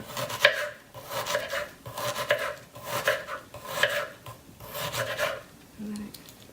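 A knife slicing and dicing onion on a cutting board, about seven evenly spaced rasping cuts close by, each with a sharp tap, followed by a brief pause.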